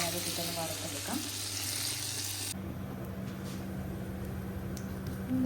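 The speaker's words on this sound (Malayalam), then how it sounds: "ബട്ടർ ഒന്ന് മെൽറ്റായി കഴിയുമ്പോഴത്തേക്കും നമുക്ക് ഈ ഡ്രൈ നട്ട്സും ഇട്ടൊന്ന് വറുത്തെടുക്കാം." Dry nuts frying in melted butter in a pan, a soft steady sizzle with faint stirring scrapes, close and fairly quiet.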